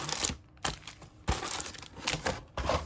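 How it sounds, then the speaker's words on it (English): Trading card booster packs being shuffled by hand, crinkling foil wrappers in several close, irregular bursts. "We're going to shuffle these packs just a little bit."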